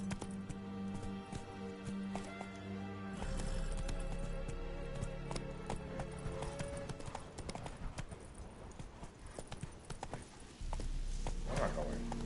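Hooves of the horse Roach clip-clop in a steady galloping rhythm through The Witcher 3, loud and continuous over game music and ambience, with a voice speaking briefly.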